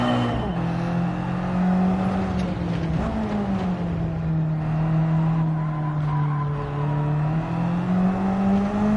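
The Mazda Spirit Racing 12R race car in Gran Turismo 7 drones with a steady high-revving engine note held under throttle, its pitch dipping and climbing slightly through a time trial lap, loud and continuous with no talking.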